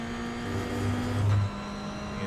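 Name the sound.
Toyota GR86 engine accelerating in the video game iRacing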